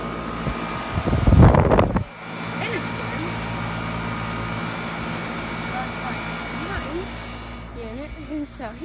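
Commercial York HVAC rooftop units running, a steady fan and compressor drone with a brief louder burst of rushing noise near the start and faint chirping sounds over the hum.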